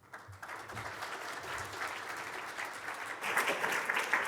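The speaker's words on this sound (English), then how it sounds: "please give a huge round of applause for our next speaker" Applause from a conference audience at the MIT Sloan CIO Leadership Awards welcomes the next speaker, starting as soft scattered claps that swell into fuller, steady clapping, heard at a low, somewhat distant level.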